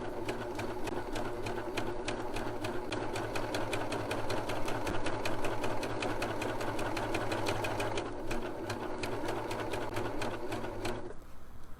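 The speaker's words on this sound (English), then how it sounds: "Start serging around, and then the blade will cut my circle." A serger stitches rapidly and steadily around a cork coaster while its blade trims the circle, giving a close, continuous mechanical whir with brief pauses in the rhythm.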